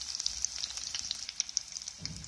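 Garlic and fenugreek seeds sizzle in hot tempering oil, a steady crackling hiss with scattered sharp pops, with a low stir or clatter near the end.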